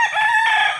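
A rooster crows once, a single loud, close call under a second long, rising partway through with no voices over it.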